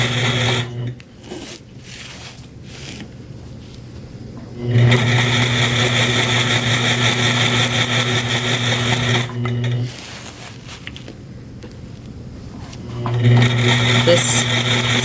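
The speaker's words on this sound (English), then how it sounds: "This stitch out is taking a little longer than last week's triangle." A sewing machine stitches out a free motion quilted twisted square using ruler work, running in several steady whirring bursts separated by short pauses, with someone talking over and between the stitching.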